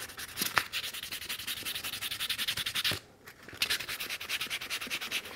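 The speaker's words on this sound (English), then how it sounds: "So I'm going to just sand that here." Light sandpaper rubs back and forth across the nubuck of a yellow Timberland Classic boot, a close, steady scratchy rasp in quick strokes, broken by one brief pause.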